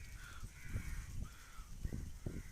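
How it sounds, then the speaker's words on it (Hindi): A crow caws outdoors near Udupi, giving several short, fairly faint calls spaced irregularly over a low background rumble. "कौवे भी होंगे कहीं पे, लेकिन हाँ ये कौवा"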